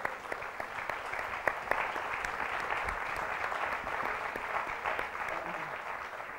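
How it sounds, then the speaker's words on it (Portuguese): Audience applause at a talk, a moderate round of clapping from a seated crowd with individual claps distinct, steady and unbroken, without voices over it. "Desarrumar é também, de certa forma, acho que merece palmas."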